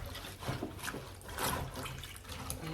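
Faint watery sloshing and dribbling from fruit and greens soaking in cold water in a kitchen sink, soft and intermittent with a few small splashes.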